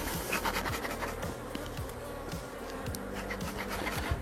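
Honey bees swarm around an opened beehive during a hive inspection, with a steady dense buzz close by and continuous throughout, no voices heard.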